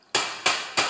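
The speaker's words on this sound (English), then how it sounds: "So I'm going to just pinch it with this hammer." Three sharp, heavy hammer blows on wood land at a steady pace, each a loud close thud ringing briefly before the next.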